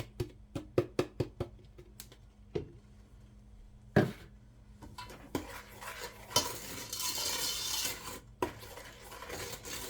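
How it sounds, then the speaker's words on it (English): Cocoa powder and vanilla being stirred into a mixture in a pot for a homemade ice cream cake, with a run of sharp spoon taps against the pan first, then scraping stirs and a brief burst of sizzle. "And I am now adding in my cocoa powder, and I will stir it."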